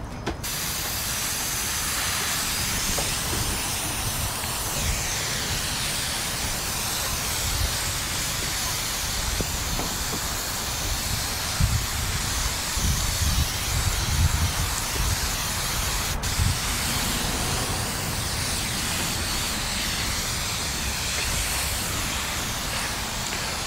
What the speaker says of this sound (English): Pressure washer for the day